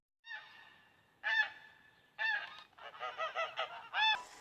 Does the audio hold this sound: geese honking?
yes